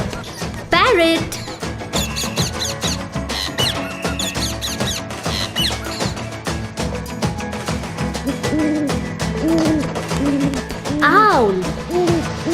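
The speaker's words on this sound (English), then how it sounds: "Owl." Cartoon owl hooting in a children's bird-names lesson, a few short hoots rising over a busy music backing, with a narrator speaking alongside.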